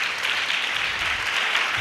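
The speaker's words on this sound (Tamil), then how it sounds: "நல்லா ஒரு ஜோராக ஒரு கைத்தட்டி அவங்க வாழ்த்திடலாமே," Audience at a Christmas celebration for hostel students clapping to welcome guests, a loud, sustained burst of dense applause from many hands, with no talk over it.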